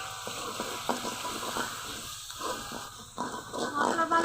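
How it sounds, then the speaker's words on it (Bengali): Turmeric, chilli and mixed spice powders fry in a pan for potato curry, giving a soft continuous sizzle with occasional stirring scrapes, quiet and close. "হলুদের গুঁড়া, মরিচের গুঁড়া দিব, মশলার গুঁড়া, আর কিছুক্ষণ কষিয়ে নিব।"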